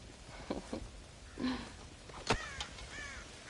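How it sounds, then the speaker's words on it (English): Crows cawing in the Red Dead Redemption video game, several harsh caws scattered over a few seconds, fairly faint against quiet outdoor ambience. "God damn crows!"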